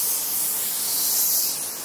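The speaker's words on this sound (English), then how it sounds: "So Jackie's making me spray it, which is kind of funny." A spray can lays epoxy onto a Toyota AE86 car panel, giving a steady, even hiss that lasts the whole short moment at close range.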